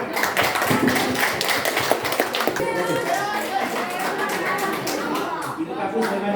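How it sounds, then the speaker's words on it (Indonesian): Applause from a crowd at a school quiz competition, dense clapping and tapping hands filling the room steadily, with children's voices talking over it. "Mari kita beri aplaus untuk memory."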